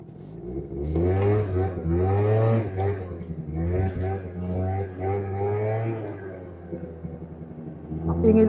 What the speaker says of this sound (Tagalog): Ang ingay lang kasi ng motor natin.